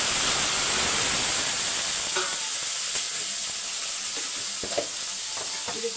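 Fennel seeds and small shallots frying in hot oil give a loud, continuous hiss and sizzle, with scattered light spoon clicks toward the end.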